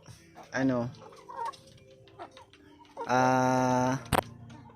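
Native chickens cluck and squawk nearby in two loud, drawn-out bursts with softer clucks and rustling between them, plus a sharp click near the end.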